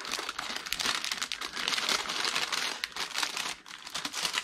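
Glassine bags of vintage paper ephemera are handled and rustled, producing a steady, close, bright crinkling that runs almost unbroken for several seconds with a brief dip near the end.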